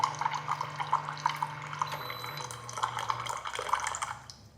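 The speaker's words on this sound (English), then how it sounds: "Notice that the water drips quite a long time" Water drips and trickles steadily from a Xiaomi Mijia instant hot water dispenser, close by, with a faint low hum underneath that shifts partway through.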